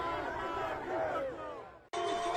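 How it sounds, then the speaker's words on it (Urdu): A large protest crowd in Tehran chants slogans in loud, rhythmic unison, voices massed and echoing, broken by a brief cut before the chanting resumes. "دارالحکومت تہران میں آمر مرد آباد کے نعرے گونجے"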